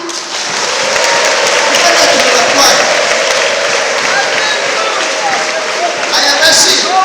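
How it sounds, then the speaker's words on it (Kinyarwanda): Church congregation applauding together at a morning service, loud sustained clapping filling the room throughout, with a voice speaking over it. "wongere uyikomere amashyi"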